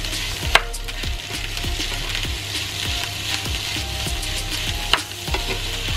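Embutido fried rice sizzles in a pan as a spatula stirs and scrapes through it, rhythmic close scraping strokes over a steady frying hiss with a couple of sharp knocks.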